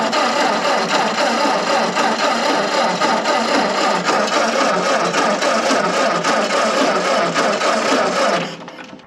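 An old Ford 8N or Kubota B6000 auction tractor engine runs loud and close for about eight seconds with a rough, uneven chugging, then cuts out abruptly near the end.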